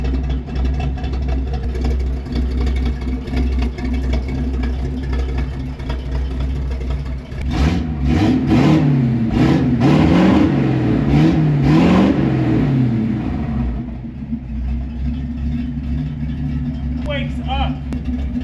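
A Dodge Power Wagon's factory engine with headers and custom exhaust idles with a loud, tinny drone, then revs in several rising and falling surges before settling back to a rumbling idle.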